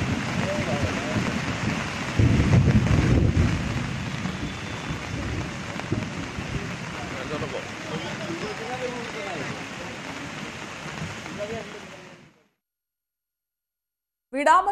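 Heavy rain pours steadily during floods in Assam, a dense continuous wash with a few deep thunder rumbles early on, before cutting to silence near the end.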